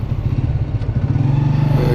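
A motorcycle rides the road from Pakistan toward Iran near the Taftan border, held to moderate speed by wind pressure; a steady, close engine drone with rushing wind runs throughout.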